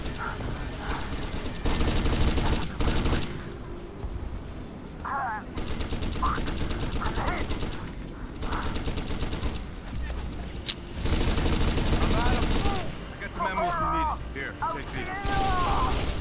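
Gunfire from the video game Kane & Lynch: Dead Men, repeated bursts and single shots in separate loud stretches over a steady game backdrop, with voices talking at times between them.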